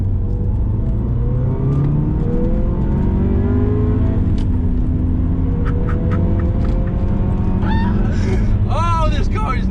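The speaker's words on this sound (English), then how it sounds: "Second gear acceleration." A Subaru Legacy Turbo engine revs hard and climbs in pitch as it accelerates in second gear, loud and close, with a turbo whistle rising over the drone.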